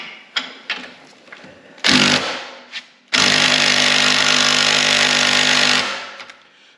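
Impact wrench driving a 19 mm nut on a Can-Am Maverick high-clearance radius arm, with a few short hammering bursts followed by one loud sustained rattling run of about three seconds, close by.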